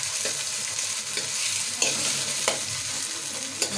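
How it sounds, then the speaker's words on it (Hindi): Spices with green coriander and green chillies frying in a pan for dhaba-style mash ki daal, stirred with a steady close sizzle and occasional scraping clicks, no voices. "इसको हिलाएं।"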